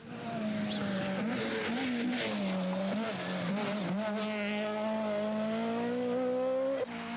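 A rally car engine drones and revs hard on a narrow, bumpy country lane during a 1982 rally event, holding a loud, steady note with slight pitch shifts throughout and no voices.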